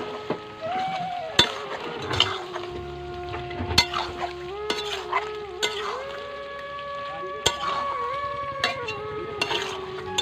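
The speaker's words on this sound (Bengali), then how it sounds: "এবার একটু নেড়ে দেবো, নুনটা যাতে মিক্স হয়ে যায়" Spiced food in a pan stirred after salt is added, with scraping, clinking strokes of a utensil over a low sizzle while a person talks over it.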